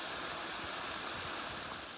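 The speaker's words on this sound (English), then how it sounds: "This down here, the waterfall off the edge of the trail" A waterfall just off the edge of a rocky enduro riding trail gives a steady, fairly soft wash of rushing water, unbroken and with no voices.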